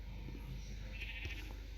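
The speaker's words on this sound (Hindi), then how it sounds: "अब जल्दी से और गाय बकरियों को बुलाते हैं।" Bleating of a goat from the Minecraft video game, a single short bleat over a low, steady background hum, with no talking.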